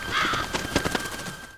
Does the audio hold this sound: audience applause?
no